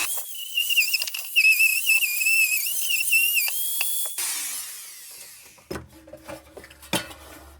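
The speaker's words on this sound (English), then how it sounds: "On my high-speed Dremel here." A high-speed Dremel rotary tool whining at a steady high pitch while working on an antique Paul's Leader No. 2 lantern, with pitch dips under load, then stopping and giving way to metallic clinks and handling.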